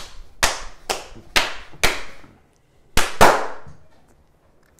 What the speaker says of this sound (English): That was a great clap.